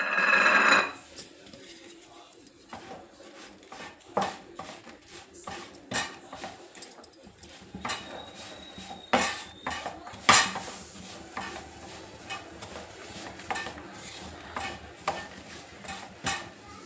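Jaggery melts in a little water in a pan while a spoon stirs and clinks against the metal, giving irregular close taps and scrapes over a faint background.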